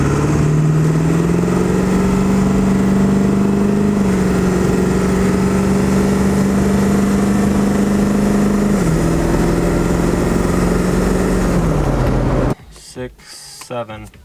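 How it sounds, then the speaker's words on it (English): A Ford 7.3L Powerstroke diesel truck engine drones loudly while driving, its pitch stepping up and easing as the throttle is inched, before cutting to quieter sounds near the end. "Go down the road, give her a little bit of juice here, inch it up and just see how it responds."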